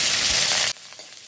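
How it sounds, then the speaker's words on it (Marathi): Mustard seeds, asafoetida and curry leaves hit hot oil in a large pan and give a loud, dense sizzle that cuts off abruptly, leaving softer crackling behind. "मागीर तितून थोडी सासवां, हींग आनी करबेल घालून फोण्णां मारलीं."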